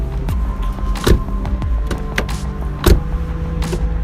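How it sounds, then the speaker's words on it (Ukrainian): Door of an Opel Astra G 1.4 Twinport being shut, giving a couple of solid thuds against a steady mechanical hum, close up with no talking. "Ось, послухайте лише звук закриття дверей."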